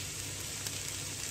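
Carrots drop into a hot pan on high flame for Chinese noodles, setting off a dense, even, crackling sizzle heard up close throughout the brief moment.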